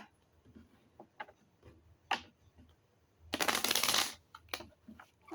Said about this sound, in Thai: ขอล้างไพ่อีกซากสองครั้งนะคะ